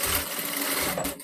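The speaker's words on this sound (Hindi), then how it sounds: "अब यहाँ पे मैं सिलाई लगा रही हूँ।" A sewing machine stitches a blouse seam in one continuous, steady whir, close and moderately loud, with no pauses across the short run.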